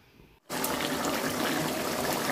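Water is tipped into a pot of frying meat and potatoes: after a quiet moment a sudden loud rush and hiss bursts up and holds steady and close.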